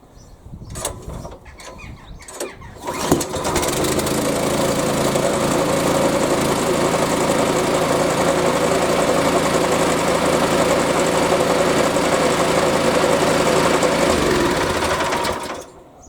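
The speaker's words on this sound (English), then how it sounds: "that's a hot and cold start on your scarifier" A Hyundai HYSC210 212cc petrol lawn scarifier engine, already warm, fires after a few pulls of the starter and then settles into a loud, steady running drone that holds for about twelve seconds before cutting off.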